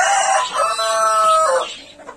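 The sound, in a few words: chickens clucking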